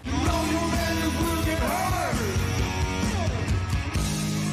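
Crowd at a bar event with rock bands screaming and yelling, loud and continuous, many voices overlapping in a raucous cheer.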